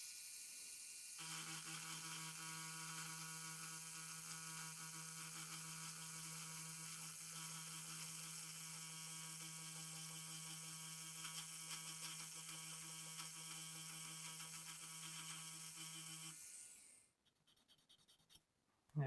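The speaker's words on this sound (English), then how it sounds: "I'm actually going to use my grinding pen to kind of rough up this whole pad" A handheld grinding pen roughs up the contact pad of a SNES game cartridge, giving a steady, close, high-pitched motor whine that runs unbroken for about fifteen seconds before cutting off.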